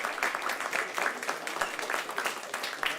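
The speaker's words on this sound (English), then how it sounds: "please, huge round of applause for Kamil" Audience applause at a Meet.js Kraków tech meetup, a steady patter of many hands clapping at moderate distance for about three seconds, fairly even throughout with no voices on top.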